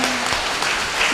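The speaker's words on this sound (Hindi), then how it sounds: "दोस्तों जरा पुरजोर तालियां बजाएं दोस्तों" A ghazal recital audience gives a short, loud burst of dense applause that fills the whole moment without a break and with no talk over it.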